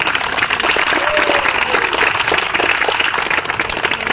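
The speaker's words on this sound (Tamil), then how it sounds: "அதனால எல்லாரும் சேர்த்து ஒரு கைத்தட்டல் கொடுப்போமா?" An audience at a Doctor's Day gathering claps together in loud, continuous applause, a dense wash of many hands with faint voices underneath.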